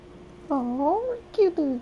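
A cat meows in the video game Hogwarts Legacy, in the village of Hogsmeade, with two clear, close, drawn-out mews, the second shorter and rising, over a quiet game background.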